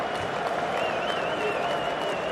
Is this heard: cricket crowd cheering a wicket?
yes